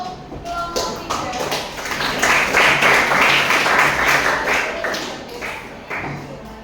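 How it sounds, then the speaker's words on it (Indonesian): Participants at an Indonesian academic coaching session clap for group 3, a close, moderately loud burst that builds and then fades, with some talk heard alongside the clapping. "beri tepuk tangan untuk kelompok 3"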